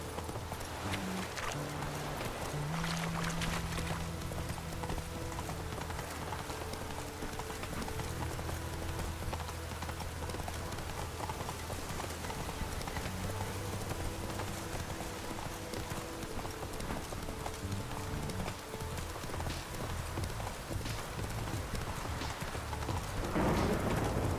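Steady clip-clop of horse hooves under constant rain noise in The Witcher 3: Wild Hunt, continuous throughout, with brief low sounds and faint voice near the start.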